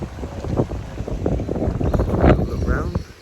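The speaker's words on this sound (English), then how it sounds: "It's windy today." Wind buffets the microphone at a beach resort, gusty rumbling bursts rising and falling over a few seconds, with people's voices mixed in.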